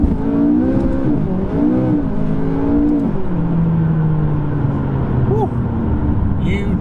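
McLaren 570S turbocharged sports car accelerating hard, a loud engine note climbing steadily with a rising whine, close and continuous, with someone talking over it.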